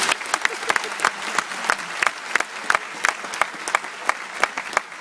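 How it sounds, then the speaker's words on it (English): An audience claps for children at a ceremony, a sustained round of applause with crisp individual claps standing out, steady and fairly close throughout, with no talk. "So could we have a big round of applause for the children?"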